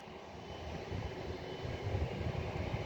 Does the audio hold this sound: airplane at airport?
yes